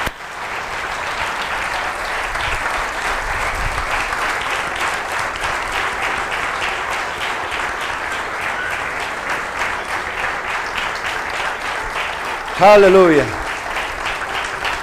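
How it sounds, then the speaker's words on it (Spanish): Loud, sustained applause from a church congregation fills nearly the whole span, with a voice calling out near the end. "Dale un aplauso grande y lindo y fuerte a Jesús."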